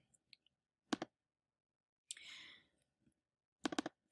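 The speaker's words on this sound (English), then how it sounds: "If I double-click it, it'll open up as a folder of images." Sharp, close computer mouse clicks in quick pairs, with a brief rustle between them in a quiet room.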